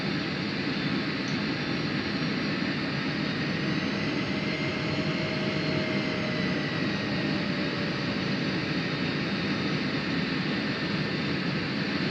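Jet aircraft engine in a flight simulator, a steady loud whine and roar holding constant while taxiing toward the runway, with a faint rising tone drifting through the noise.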